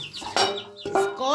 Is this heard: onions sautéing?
no